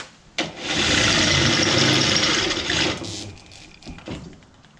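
Steady abrasive whirring grind of an ALDI Ferrex 65W tool sharpener working a drill bit, loud and close for about two and a half seconds, then fading into a few light scrapes.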